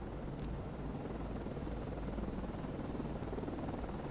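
A Seahawk helicopter returning to a ship in the naval video game Cold Waters, a steady low rotor drone with faint chopping, distant and even throughout with no talk.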